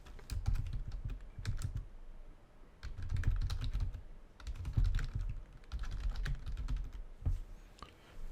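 Computer keyboard typing while text goes into a PowerPoint text box: bursts of rapid, close keystrokes with short pauses between phrases, no talking.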